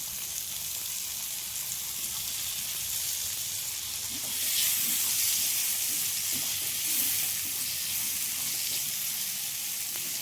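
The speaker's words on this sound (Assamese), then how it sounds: "এতিয়া মই ইয়াতে বিলাহী দিলোঁ।" Tomatoes dropped into a hot pan and frying, a steady close sizzle with louder bursts of crackling partway through, no voices.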